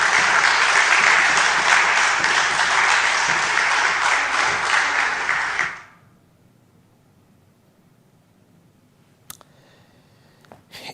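Audience applause at a public event, a loud sustained burst of many hands clapping that cuts off abruptly, followed by near silence and a few faint clicks.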